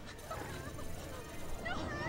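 A dog growls and snarls in the Dirge of Cerberus video game, a close, rough animal noise running beneath continuous game sound and a voice talking over it.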